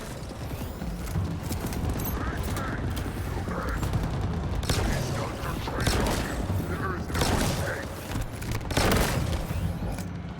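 Grenade explosions and gunfire in the Halo Infinite video game, a dense, loud barrage of booms and crackling blasts layered over a continuous battle din, with several heavier bursts toward the end.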